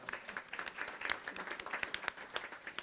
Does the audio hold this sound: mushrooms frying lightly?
no